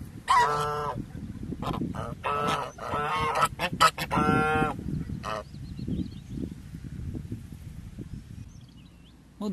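Several geese honk in loud harsh bursts at close range, resting in an outdoor spot, with a few clustered calls early on and then quieter rustling and low background noise.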